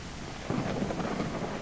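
A thunderstorm with rain in the video game Outbreak Island, a steady wash of rainfall joined by a low rumbling thunder swell halfway through, no voices.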